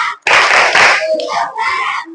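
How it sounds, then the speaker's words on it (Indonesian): Classroom of children performing the tepuk madura rhythmic clap, close and loud, a burst of hand claps mixed with chanting voices in a short patterned sequence. "kita melakukan tepuk madura dulu"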